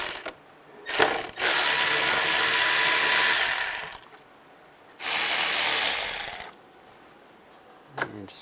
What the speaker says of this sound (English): Use a T20 socket to take those out.